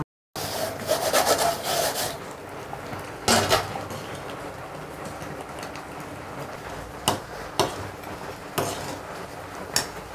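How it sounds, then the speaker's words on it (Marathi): Semolina (rava) being stirred into boiling water in a pan for spicy upma, giving a steady close scraping and rubbing of a spoon against the pan with a few sharper knocks near the end, no talking. "थोडा थोडा करून रवा टाकत राहायचा, हलवत राहायचं"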